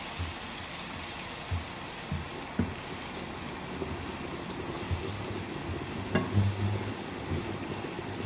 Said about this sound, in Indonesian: Oseng-oseng lagi sampai harum ya teman-teman.